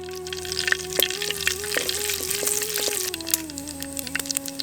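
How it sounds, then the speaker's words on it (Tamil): Cumin seeds sizzle in hot oil in a pan for a drumstick flower rasam, a steady close crackle with sharp pops and stirring clicks and a faint background hum. "எண்ணெய் நல்லா காஞ்சதும் கொஞ்சம் சீரகத்தை சேர்த்துடலாம்"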